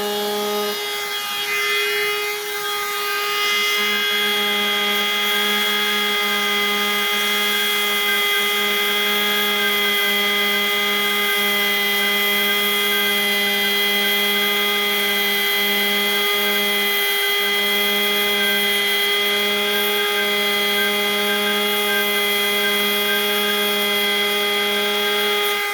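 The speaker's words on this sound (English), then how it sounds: "I'll show you how it works so well with the welder." A welder used to solder an automotive wire terminal joint gives off a loud, steady tonal hum with a rough buzzing edge, unbroken and close for the whole stretch.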